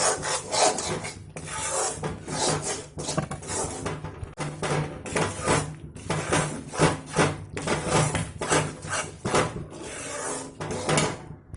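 Besan (gram flour) is stirred and roasted in a pan for modak, producing a repeated rhythmic scraping and rubbing of the spoon against the pan, close and moderately loud with no speech.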